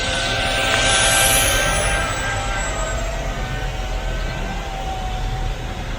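A Flying Speedy F42 toy drone plane from Auchan flies in its second speed setting, giving a steady, loud broadband whir with a faint high whine that holds throughout, heard close and without any talk.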